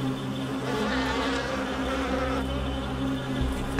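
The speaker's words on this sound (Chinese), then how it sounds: "喜马拉雅山悬岩蜂，世界上体型最大的蜜蜂，能飞到海拔4000米以上" Himalayan giant cliff honey bees buzz continuously in a dense, loud, steady drone, with no voices present.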